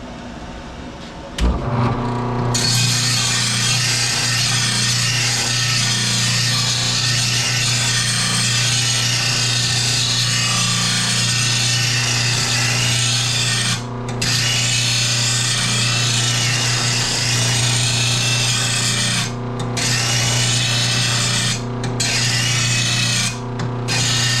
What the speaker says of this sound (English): let's go over here and knock an edge on this blade